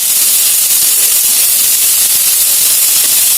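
Ghee sizzling in a hot pan while cooking, a loud, steady, close hiss that continues evenly without pause.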